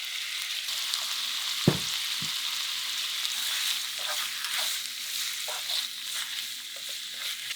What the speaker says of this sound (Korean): 그리고 재운 고기 먼저 볶는다.